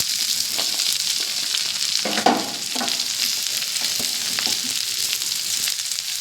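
Onions fry in a pan for a buttermilk curry, a steady loud sizzle with stirring scrapes and one brief clatter, close by and with no talking.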